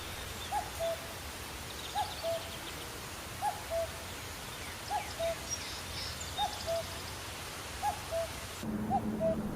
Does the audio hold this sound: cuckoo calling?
yes